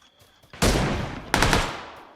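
Two sharp, loud gunshot blasts from PUBG, each followed by a quick decaying echo, with no talking.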